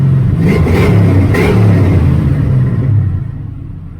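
Stock engine swapped into a Foxbody Mustang, revved at its first startup, a loud close rumble with two quick throttle blips before settling and fading.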